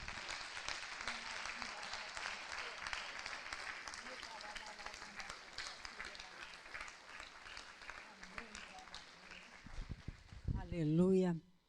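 Church congregation applauding, a steady wash of many hands clapping at a moderate distance, fading near the end as a voice briefly begins.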